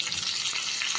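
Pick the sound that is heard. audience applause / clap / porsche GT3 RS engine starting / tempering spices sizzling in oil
tempering spices sizzling in oil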